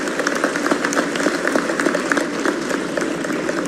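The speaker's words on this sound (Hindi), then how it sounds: "आज जरा जोर से ताली बजाओ," Audience applause at a state-level award ceremony in Bhopal, a brisk, even patter of many hands clapping at moderate volume for a few seconds.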